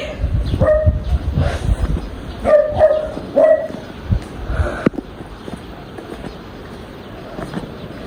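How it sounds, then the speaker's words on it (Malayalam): A dog barks a handful of times in short yipping bursts, some grouped in quick pairs, moderately close in a remote sparsely inhabited hillside spot in Arunachal Pradesh, followed by quieter ambient background. "പട്ടി"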